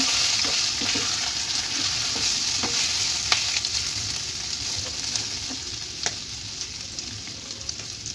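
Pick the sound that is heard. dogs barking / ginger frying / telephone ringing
ginger frying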